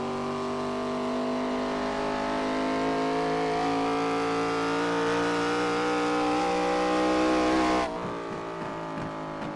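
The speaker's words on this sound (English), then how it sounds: "These cars sound way better than these trucks sometimes. I like the sound of these cars." ARCA race cars accelerate at Iowa Speedway with a loud, sustained, rising engine drone. Near the end the pitch drops sharply as the cars pass, then fades into mixed trackside noise.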